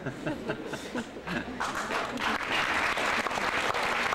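Audience applause at a book presentation in a hall, starting out under a voice and scattered claps, then swelling into dense, sustained clapping that fills the last half.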